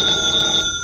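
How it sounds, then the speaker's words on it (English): A telephone bell rings in a radio drama scene set in a furnished room, a loud, close, continuous metallic ring filling the whole moment, with no voices. "the phone was ringing."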